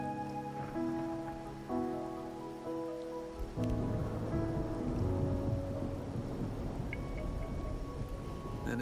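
Steady rain in the video game Wuthering Waves patters and hisses throughout, fairly soft, with faint sustained musical tones over it at the start.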